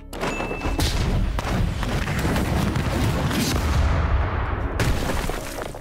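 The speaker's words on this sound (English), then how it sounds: "The fourth new move for Bakugo is called Blast Catapult" Bakugo's Blast Catapult move in Roblox Heroes Battlegrounds: a sustained roar of explosive blasts and deep thuds that rumbles for several seconds, with a sharp burst near the end and no talking.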